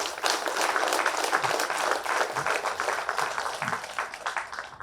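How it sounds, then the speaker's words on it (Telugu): An audience at a youth meditation programme claps loudly for spiritual leaders, dense steady applause from a crowd close by, holding for several seconds and then tapering slightly. "స్పిరిచువల్ లీడర్స్కి అందరికీ ఒకసారి గట్టి క్లాప్ చేద్దాం."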